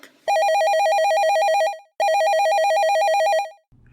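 A telephone rings in two long electronic trilling bursts separated by a short gap, loud and close, followed by a faint low rustle.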